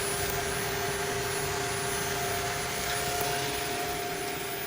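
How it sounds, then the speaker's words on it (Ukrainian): The cooling fans of a Deye SUN-8K-SG05LP1-EU solar inverter run with a continuous, even whirring drone and steady tonal hum, close and unbroken, with no talk. "Вентилятори наші, бачите?"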